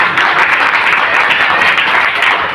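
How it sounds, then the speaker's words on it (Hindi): Audience at a home marketing meeting clapping loudly and continuously, a dense close burst of applause with no pause. "एक मसाला ताली अपने लिए।"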